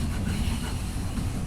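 Steady, loud rumble and rattling of an LRT-1 light rail train ride heading to Doroteo Jose station, continuous throughout with no voices.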